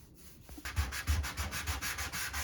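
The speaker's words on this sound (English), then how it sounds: "So a very light sanding is what is needed here" Rhythmic back-and-forth sanding strokes on a painted white kitchen cabinet, about a dozen even passes starting after a short pause, close and steady with no voices.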